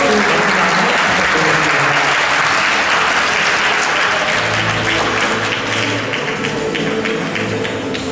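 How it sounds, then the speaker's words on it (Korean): Loud, sustained clapping from the audience at a 2023 mentor-mentee matching ceremony at a Korean technical high school, with thick overlapping claps over a low tonal hum that runs underneath throughout. "모두가 뜨거운 박수 부탁드립니다"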